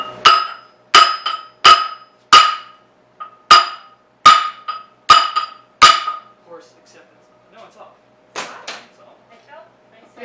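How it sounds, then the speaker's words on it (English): Sharp metallic hammer strikes on a 13B rotary engine part during disassembly, about eight evenly spaced loud blows followed by a few lighter taps and clinks, close by. "if you pry, I'll just smack with the hammer"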